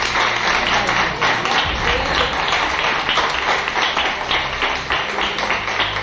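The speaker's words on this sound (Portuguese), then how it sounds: "Vamos aplaudir o Senhor para a vida dela" A church congregation at an anniversary service applauds in a dense, continuous wash of clapping that stays loud and even from start to finish, with a few voices underneath.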